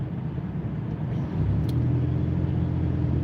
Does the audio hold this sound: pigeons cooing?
no